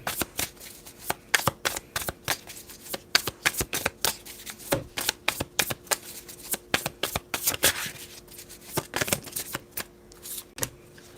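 Tarot-style oracle cards being shuffled by hand nearby, crisp papery riffles and slaps in irregular bursts, loud and close with brief pauses between rounds, no talking.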